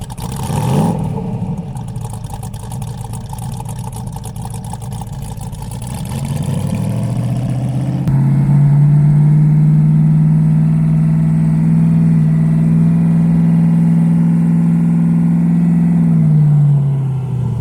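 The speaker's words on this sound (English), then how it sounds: "The car runs okay." A restored Shelby Lone Star Cobra 3 rear-engine prototype car runs close by, its engine rumbling steadily before rising to a louder, sustained drone that holds and then eases off near the end.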